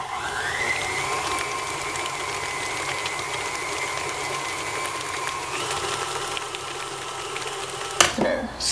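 An electric mixer on high speed beats cake batter with two freshly added eggs, giving a steady, loud motor whine for about eight seconds that then stops abruptly with a clunk.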